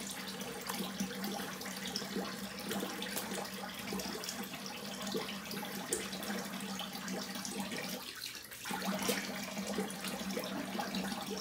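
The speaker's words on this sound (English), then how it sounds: "Let's do a cold water rinse." A bathroom tap runs steadily for a cold water rinse after shaving, a continuous rushing splash at moderate level, close by, with a brief dip partway through.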